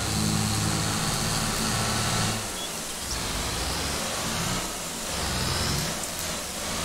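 A tractor engine from Farming Simulator 22, a modded Indian Arjun 555, runs loudly and steadily, with a low rumbling drone that dips briefly a few times and then swells back up. No one talks over it.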